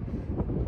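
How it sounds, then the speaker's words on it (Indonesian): Wind buffets a microphone outdoors near a museum in Leiden, Netherlands, a steady low rumble that swells and stays close for under a second, heard on its own. "Dan di sini juga cukup berangin."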